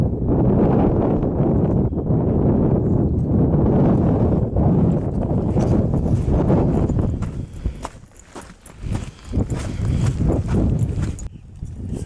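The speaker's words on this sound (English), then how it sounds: "a really strong cold wind has come up." Strong, cold mountain wind buffets the microphone on the Pacific Crest Trail near Goat Rocks, a loud steady roar with gusty surges. It mixes with rhythmic footfalls and eases briefly near the end.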